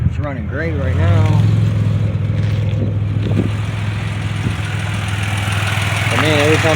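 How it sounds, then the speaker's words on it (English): A 2007 Pontiac Grand Prix GT idles with a steady low hum while its cooling fans run, and someone talks intermittently over the engine, which has a misfire fault and a check engine light on. "Just sitting here idling and the fans are running."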